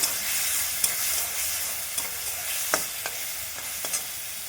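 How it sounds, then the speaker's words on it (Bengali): A ground paste of mustard, turmeric and chili fries in a hot pan, making a steady close sizzle with occasional scraping stirs and light clicks from the spoon against the pan. "এটা সর্ষে আর হলুদ আর লঙ্কা একসঙ্গে বেটে নিয়েছিলাম, দিয়ে দিলাম। একটু কষে নেব।"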